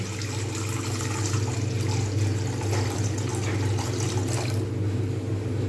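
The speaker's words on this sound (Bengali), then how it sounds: "এতে আমি পরিমাণ মতো আমি এতে জল দিয়ে দেবো" Water pours into a cooking pan set on the stove for an egg poach soup, a steady rushing splash lasting several seconds before tapering off near the end.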